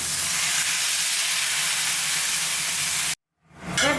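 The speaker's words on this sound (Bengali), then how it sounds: "এবার জল দিয়ে দেবো।" Water poured into a hot pan of sizzling fish egg curry sets off a loud, steady, hissing sizzle for about three seconds, then it cuts to brief silence before the hiss returns.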